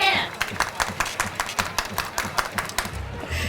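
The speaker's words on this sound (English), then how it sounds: "Everybody clap your hands." Dodger fans at a baseball game clapping their hands in unison, a steady rhythmic beat of a dozen or so crisp, fairly close claps, with a voice talking under the clapping toward the end.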